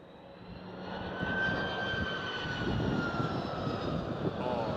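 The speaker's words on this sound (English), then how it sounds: "Oh, screaming of the engines." Turkish Airlines Airbus A330 widebody jet at Schiphol airport, Amsterdam, its engines roaring steadily and fairly close with a rising whine that holds loud throughout; faint voices murmur underneath.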